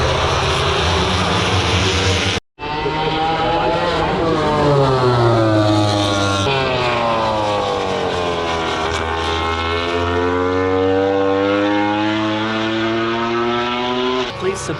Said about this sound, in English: Start of the MotoGP race.